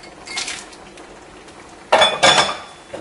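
A spoon stirs peas through paella in a pan, making two bursts of clattering, scraping utensil-on-metal noise: a short one early, then a louder, longer run near the end, with a faint simmer in the quiet between.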